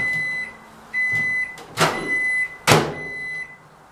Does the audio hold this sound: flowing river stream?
no